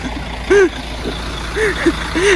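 A steady low hum rises from the running engine of a Mercedes-Benz Jetbus 3 intercity coach, heard nearby beneath scattered bursts of talk.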